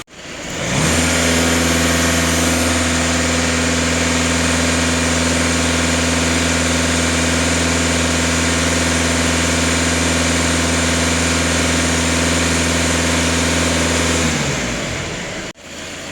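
A Volkswagen Scirocco TDI diesel engine runs steadily and loud for about fourteen seconds, close up, with a constant hum and no clear rev changes before it cuts off abruptly.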